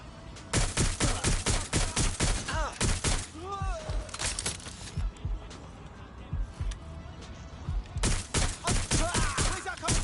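Rapid bursts of gunfire crack out in Watch Dogs, loud clustered volleys of shots, a quieter stretch in the middle, then another dense barrage toward the end.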